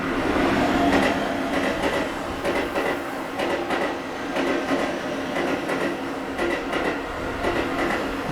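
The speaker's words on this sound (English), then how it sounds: "And then with the train going through." A train passes through a rural Japanese railway, its wheels clicking over rail joints in a steady rhythmic clatter, loud and close, with faint squeals, no voices.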